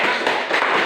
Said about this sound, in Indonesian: Tepuk tangan untuk jawaban